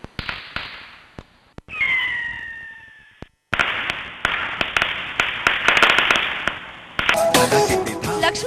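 Firecrackers burst during Diwali celebrations in a long series of sharp, loud cracks and pops, some rapid and clustered, some spaced apart, with a whistling or squealing rocket tone partway through and a dense crackling flurry at the end.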